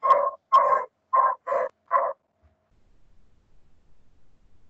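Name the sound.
dog barking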